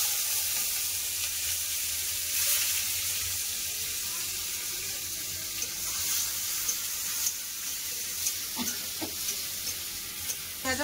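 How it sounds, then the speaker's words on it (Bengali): Onions fry in oil with black cumin, bay leaf and dried chilli, a steady bright sizzle with occasional stirring scrapes and clinks near the end. "পেঁয়াজ আমার ভালো করে ভাজা হয়ে গেছে।"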